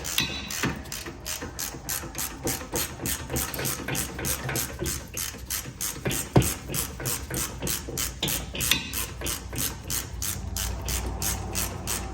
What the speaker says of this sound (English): I always prefer using a hand ratchet over electric, especially when working with bolts that might get messed up